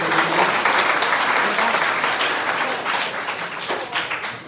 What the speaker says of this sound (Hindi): सबसे पहले इसके लिए जोरदार तालियां हो जाए।